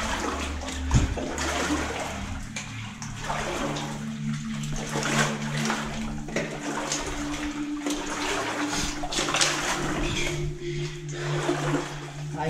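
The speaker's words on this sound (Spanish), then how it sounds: "me toca caminar por túneles con agua" Murky water sloshes and splashes around feet wading through a flooded tunnel, a continuous rushing, gurgling wash with irregular surges, close and echoing in the enclosed space.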